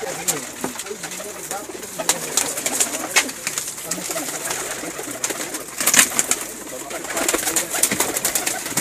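Pigeons coo softly over a busy outdoor background with scattered chirps and faint voices, the cooing continuing throughout.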